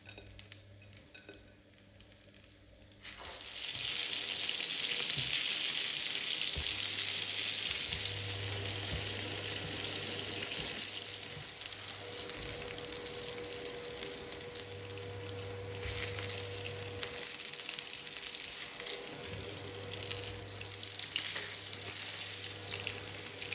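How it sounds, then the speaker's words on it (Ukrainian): Steady loud sizzling of meat frying in hot oil on medium heat, close by, with occasional faint clinks of utensils against the pan. "Смажу на середній потужності, щоб м'ясо просмажилось."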